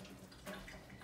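Hands rinsed under a running tap while making cold-fermented pizza dough, a steady close splash of water flowing for about a second with no talk.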